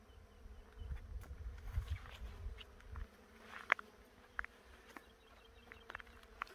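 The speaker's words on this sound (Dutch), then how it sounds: "Alleen maar het gezoem van bijen" Bees buzz near and far in the open countryside of the Sierra Espuña near Jumilla, a soft continuous hum with individual insects passing close in brief louder flurries, quiet overall, with no talking.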